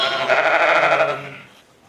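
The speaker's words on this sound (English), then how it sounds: "we're going to feed the pet lambs, the orphans" Orphaned pet lambs on a farm bleat in one close, loud, wavering cry that fades out over under two seconds, with no talking.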